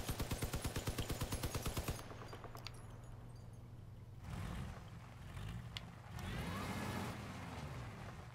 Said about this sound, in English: I have to turn the vehicle